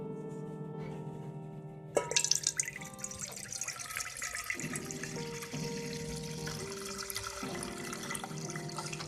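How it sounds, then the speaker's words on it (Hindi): Milk being poured into a saucepan while making Kashmiri pink tea, a steady liquid splashing and trickling that starts abruptly and runs on evenly, close and fairly quiet with no talking. "तो अब हम 1 लीटर दूध लिया है और इसको हम सॉस पैन में डालते हैं"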